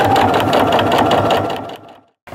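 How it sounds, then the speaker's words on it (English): A sewing machine runs at a fast, steady buzz while top stitching around the edge of a fabric tote at a long stitch length, then winds down and stops, with a brief handling sound at the end. "Now we're gonna top stitch around the outside edge."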